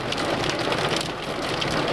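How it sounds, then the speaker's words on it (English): Steady dense rain mixed with small hail patters hard and continuously on a vehicle on an outback desert track in Australia, a loud close drumming wash with no speech. "It's just started hailing."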